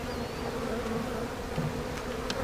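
A captured honeybee swarm buzzes softly in low light around new wax frames, a continuous faint hum of many bees with occasional louder passes close by.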